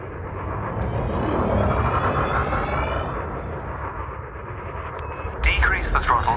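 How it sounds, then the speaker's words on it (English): Spaceship thrusters in Elite Dangerous accelerate forward as a steady, loud engine roar with a rising whoosh, ending in brief bursts of higher mechanical tones near the close. "Now increase your throttle to accelerate forwards."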